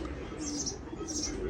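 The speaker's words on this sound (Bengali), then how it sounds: "অনেক ভালো মানের এক পেয়ার গোল্ডেন কবুতর দেখাচ্ছি" A pair of golden high-flyer pigeons gives a brief, low, soft coo at close range over faint background noise.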